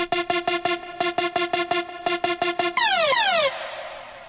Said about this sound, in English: That laser sound, by the way, again, just pitch bending.